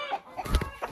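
A rooster clucks in short, close bursts, several quick calls within a second, fairly loud against a quiet farmyard background.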